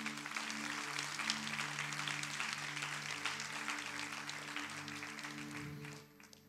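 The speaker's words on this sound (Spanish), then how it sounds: "Denle un aplauso al Señor." Church congregation applauding together, a steady dense wash of clapping with a low sustained organ or keyboard tone underneath, fading out near the end.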